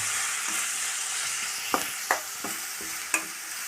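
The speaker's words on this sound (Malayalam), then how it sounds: "എല്ലാതും മിക്സ് ആക്കിയിട്ട് നന്നായിട്ട് ഫ്രൈ ആക്കട്ടെ." Garam masala, coriander and turmeric powders stirred into frying onions in a pan, a constant oily sizzle broken by four or five sharp scraping knocks of a spoon against the pan.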